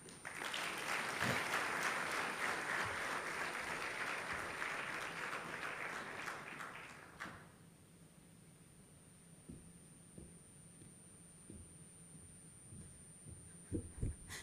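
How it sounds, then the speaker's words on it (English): An audience at a Rwanda FinScope 2024 report launch applauds after a presentation, a dense burst of clapping for about seven seconds that abruptly dies away into a quiet room with faint scattered knocks. "Now I want another round of applause for yourselves"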